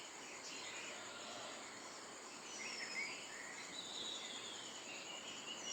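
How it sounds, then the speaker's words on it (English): Many species of birds in thick trees at early morning give faint, distant chirps and short twittering calls, set against a steady high insect-like drone with no voices. "Birds are now busy singing, chirping, twittering with each other."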